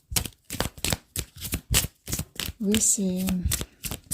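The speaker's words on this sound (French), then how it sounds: "de remélanger les cartes pour une autre" Tarot cards are shuffled in quick, rhythmic bursts of riffling close by, followed by someone speaking briefly.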